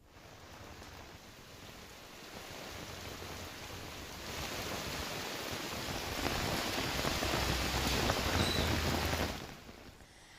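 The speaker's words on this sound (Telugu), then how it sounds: "నగరంలోని పలు చోట్ల భీకర వాన పడుతోంది." Heavy rain lashes a Hyderabad city street, a broad steady hiss that swells louder through the middle and then eases near the end, with no voices.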